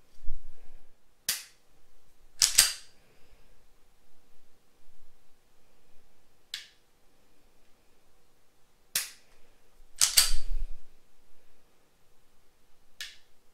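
Springfield XD pistol shots ring out one at a time, about six sharp, loud cracks spaced irregularly across a quiet outdoor range, with near silence between them.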